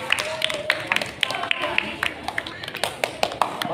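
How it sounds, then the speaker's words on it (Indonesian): A class clapping for a student group in a physical education lesson, scattered sharp claps at moderate loudness mixed with voices talking over them. "tepuk tangan untuk kelompok si penangkap"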